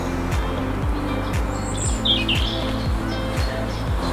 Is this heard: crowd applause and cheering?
no